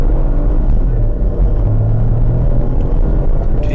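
A BMW X1 sDrive 18i in Eco Pro mode accelerating hard, with a steady, loud low engine rumble that builds through the run without a break.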